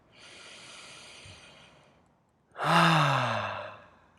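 A deep breath drawn in slowly during a self-forgiveness tapping exercise, a soft airy inhale of about two seconds, followed after a brief pause by a louder, fuller sighing exhale, close and alone.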